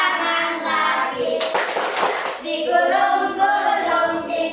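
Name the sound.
children clapping hands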